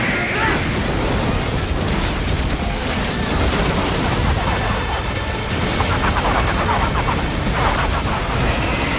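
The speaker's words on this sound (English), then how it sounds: "Use the ninja run to dodge that plasma." Plasma cannon fire in the Metal Gear Rising Revengeance game, a dense, continuous barrage of heavy blasts and booming impacts that stays loud for the whole stretch.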